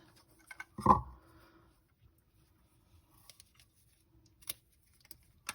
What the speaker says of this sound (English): find some coordinating ribbon in your stash, cut a couple of lengths of it